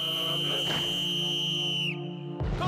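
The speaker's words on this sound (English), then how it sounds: "The morning whistle goes at 4:45." A single sustained, steady whistle tone carrying through a hot early-morning Foreign Legion camp in Djibouti, cutting off abruptly near the end before a brief burst of other noise.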